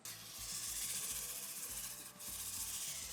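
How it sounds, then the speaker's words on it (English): Sandpaper rubs back and forth with a steady, hissing scrape and a short pause partway through, close up. "Just rub that 240 back and forth, and because I am wet sanding as well"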